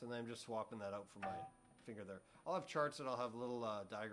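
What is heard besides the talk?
No distinct noise like a dog, phone or traffic.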